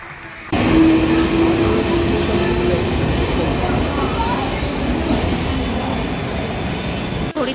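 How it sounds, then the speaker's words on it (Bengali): Suburban local train pulling out of Sealdah station platform 10 and heading toward Dakshineswar, a steady close rumble and rattle of carriages with a faint tonal whine, continuous throughout after a brief quiet start. "শিয়ালদার 10 নম্বর প্ল্যাটফর্ম থেকে কিন্তু আমাদের ট্রেন ছেড়ে দিয়েছে। এবার আমরা দক্ষিণেশ্বরের দিকে আস্তে আস্তে যাত্রা করছি।"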